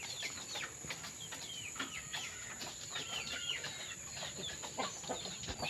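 Asil gamefowl chickens cluck and chirp while being fed, a busy cluster of overlapping calls at close range that carries on throughout without speech.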